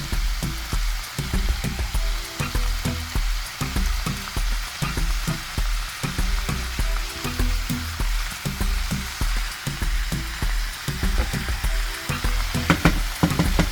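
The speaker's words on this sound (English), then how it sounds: "I'm gonna go in with my butter" Butter sizzling in a pan as vegetables sauté for corned beef and cabbage, a loud continuous crackling fry with rapid popping and occasional clinks of stirring.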